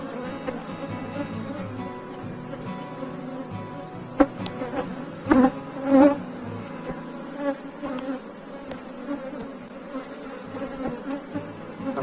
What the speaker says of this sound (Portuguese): o enxame já está com volume muito bom de abelha